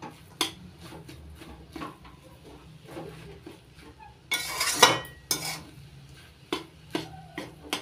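A spoon scrapes and stirs against a pan while mashed banana stem paste is mixed with slit green chillies, with irregular clinks and rubbing and one louder grinding scrape midway, close up with no talk.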